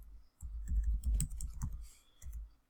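Keys on a computer keyboard clack in quick uneven bursts, close and fairly soft, with short pauses between clusters of presses.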